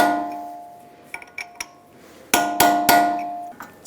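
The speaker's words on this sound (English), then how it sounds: "Using a hammer and a punch, stake the axle nut." A hammer strikes a punch to stake the axle nut on a 2007-2011 Toyota Camry front knuckle: a few light taps, then three loud ringing metallic blows close by, followed by a softer tap.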